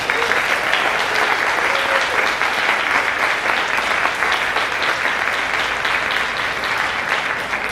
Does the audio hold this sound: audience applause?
yes